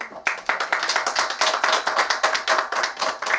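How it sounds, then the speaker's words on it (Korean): An audience applauds after a public lecture on the Fourth Industrial Revolution with distinct, moderately loud claps in an uneven rhythm. The clapping continues for a few seconds. "우리 황희연 원장님께 다시 한번 큰 박수 부탁드립니다."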